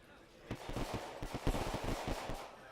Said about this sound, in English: And there go the fireworks